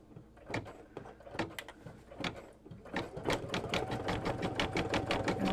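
An embroidery sewing machine stitches an in-the-hoop mug rug: a rapid, regular run of close mechanical clicks and needle strikes, starting in uneven bursts and then settling into a fast steady rhythm, with no voices.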